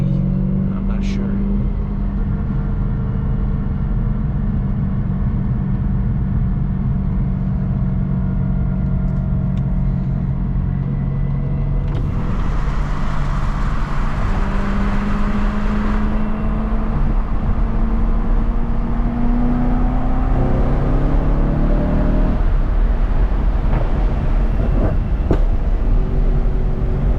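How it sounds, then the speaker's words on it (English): A 2008-style BMW E92 M3 V8 heard from inside the cabin while driving, a low steady drone with rising and falling engine pitch as it revs on a downshift, muffled with the window up, with a person talking. "A little high on the downshift there."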